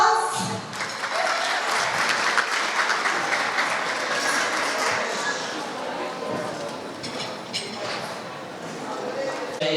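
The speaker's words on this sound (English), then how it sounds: "Can we get a round of applause?" An audience at a Muslim welfare gala applauds in a sustained round of clapping that starts strong and slowly thins, with faint voices in the hall.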